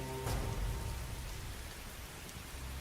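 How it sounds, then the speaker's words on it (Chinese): Heavy rain falling outside an old temple, a continuous dense hiss of rain on surfaces with a low rumble near the start, steady and fairly close, with no voices. "还好这庙不漏雨，这天儿可真邪门，说下雨就下雨。"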